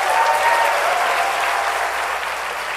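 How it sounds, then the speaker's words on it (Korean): An audience applauds for teachers at a 2013 youth mental health symposium lecture. The applause is full and sustained, loud and fairly steady throughout, with no talking over it. "우리 전국에 있는 교사를 위해서 박수 한번 쳐주세요"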